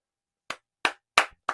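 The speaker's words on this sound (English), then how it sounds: "Round of applause, lad" Four sharp, separate hand claps in a slow, slightly uneven rhythm, close and crisp against silence, with no voices.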